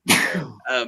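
A single person's sneeze, loud and close, with a sharp burst followed by a brief second breathy gasp, heard alone with no talking.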